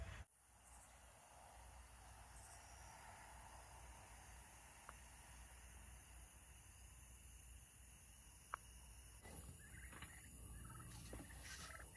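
Turkeys gobble from a distance against a steady outdoor hiss, with a brief sharp knock near the end and no talking.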